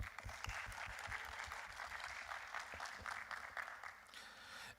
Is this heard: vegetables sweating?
no